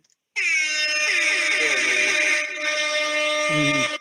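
A loud, sustained air horn blast with bright harmonic tones, holding steady for about three seconds before cutting off, with a brief lower honk near the end.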